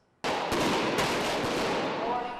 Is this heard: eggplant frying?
no